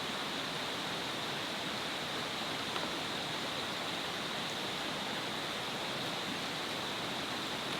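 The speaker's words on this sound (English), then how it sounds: "I hope the river's not drowning you out. I hope you can hear the rain and this." Steady rain and a rushing river surround a tent campsite, a constant loud hiss of water with a faint high whine running through it and no break.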